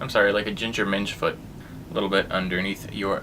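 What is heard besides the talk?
No everyday noise stands out behind the speech.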